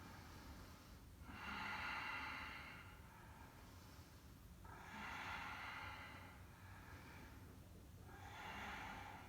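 Three slow, deep breaths held in a yoga pose during a leg-day flow, each a long airy inhale or exhale swelling and fading with short quiet gaps, close and clear with no talking.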